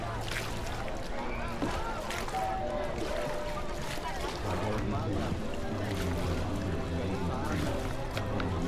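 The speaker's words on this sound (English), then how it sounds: "The rhythmic sound of the crew paddling and the distant chatter from the shore filled the air." A crew paddles a boat at sea with a steady wash of water and boat noise, while voices chatter throughout, muffled and somewhat distant.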